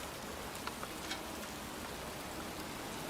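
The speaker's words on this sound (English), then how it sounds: "It's cold. It's raining." Rain falls steadily in a cemetery in the video game Heavy Rain. It is a constant, even hiss with a few faint droplet ticks, heard alone with no talk.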